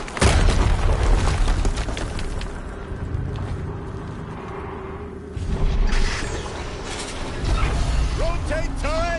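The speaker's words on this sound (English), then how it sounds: "Another explosion." A loud explosion booms in Horizon Zero Dawn, followed by further heavy rumbling blasts and mechanical game effects, with a voice faintly present among them.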